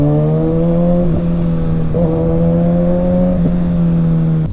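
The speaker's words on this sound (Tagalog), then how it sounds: "Sarap yung harurot." A motorcycle engine fitted with an Austin Racing exhaust holds a loud, close, deep humming drone, with short gear-like blips at roughly one-second intervals where the pitch briefly dips and recovers, no talk.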